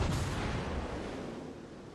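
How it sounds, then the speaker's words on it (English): A heavy naval gunfire impact hits the player's warship in World of Warships, a loud booming burst at the start that rolls off into a decaying rumble. "quit shooting at me"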